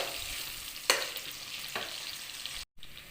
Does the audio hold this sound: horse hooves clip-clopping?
no